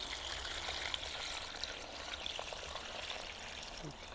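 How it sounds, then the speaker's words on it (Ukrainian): Liquid fertilizer solution, about three litres, is poured onto the base of a small grapevine in a home vineyard. It makes a faint, steady trickling stream throughout, close by and quiet. "Отакий, наприклад, маленький, підливаємо приблизно 3 літри."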